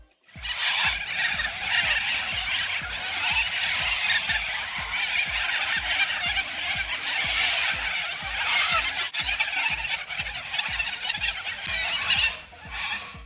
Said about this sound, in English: Pretty mad bird action there.